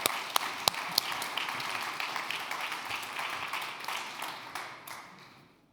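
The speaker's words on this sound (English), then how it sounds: "Warm welcome, big applause on stage." Audience applause welcoming a speaker onto the stage at a circular economy festival in Munich, a fairly faint, steady patter of many hands with a few sharper claps early on, fading out toward the end.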